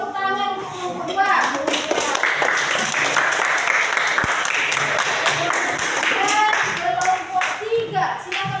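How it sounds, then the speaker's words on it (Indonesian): Classroom audience clapping for a discussion group at a teacher-training session, steady loud applause lasting several seconds with scattered voices and a child's speech mixed in. "Tepuk tangan untuk kelompok 2."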